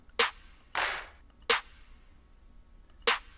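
Four clap drum hits from an FL Studio sample, crisp and snappy with a short reverb tail, spaced irregularly with one longer noisy burst among them, clean and isolated.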